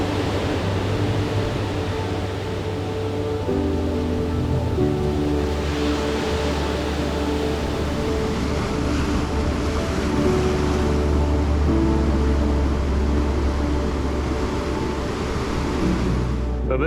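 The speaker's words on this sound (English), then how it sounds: "all the waves are crashing up against the cliffs." High-tide ocean waves crash against cliffs on a remote New Zealand coast near Kahurangi Point, making a steady, dense roar of surf that runs on without pause, with a low windy rumble beneath it.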